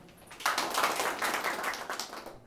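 A group claps hands as part of a training exercise, a dense run of quick, fairly even claps that starts abruptly and keeps going steadily at moderate loudness, with no talk over it.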